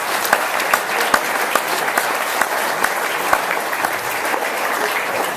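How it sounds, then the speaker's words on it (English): Steady, dense applause from an audience at a motor vehicle studies awards ceremony, with scattered sharper claps standing out over the continuous wash of hands, fairly loud and unbroken throughout. "So give yourselves a round of applause."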